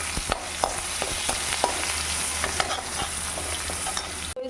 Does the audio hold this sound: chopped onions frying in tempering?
yes